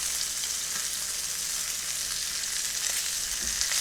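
Pork chops fry in a pan with a steady, dense sizzle and crackle that holds an even level throughout, close and alone with no talking.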